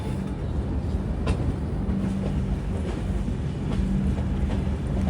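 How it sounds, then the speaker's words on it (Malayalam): A train arrives at a large railway station, likely the Rapti Sagar Express, with a steady close rumble and rolling wheel clatter throughout and no talking. "3:45 ട്രെയിൻ അങ്ങനെ എത്തി."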